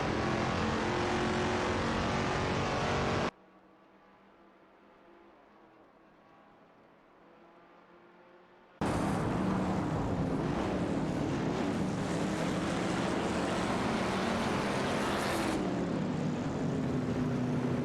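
Race cars in a racing video game, including a 1970 Plymouth Superbird and a 1969 Dodge Charger Hemi, roar steadily, with engine tones and a roaring rush that drop to a quieter stretch before surging back loud.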